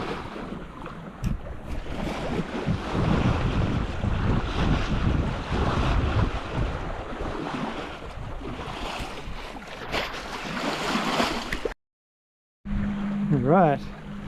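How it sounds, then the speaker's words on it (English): A sailboat under way off Auckland heading toward Rangitoto, with a constant roar of wind buffeting the microphone over washing waves, then a brief cutout and a faint tone near the end. "Pretty smooth sailing today."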